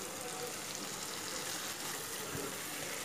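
A coarse nut paste with small nut pieces fries for chicken rezala, giving a quiet, steady sizzle that runs unbroken for a few seconds with no voices.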